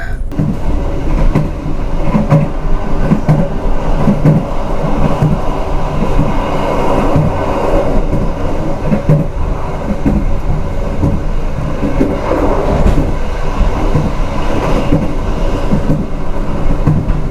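Sancaka Utara passenger train running on the rails, heard from inside the carriage as a loud, continuous rumble of wheels with faint rhythmic clicking throughout.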